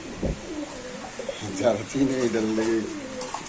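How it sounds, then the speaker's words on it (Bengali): White racer pigeons coo in repeated throaty, rolling bursts close by, several calls overlapping, with talk among people at a pigeon market in between. "এই যে হোয়াইট রেসার কবুতর"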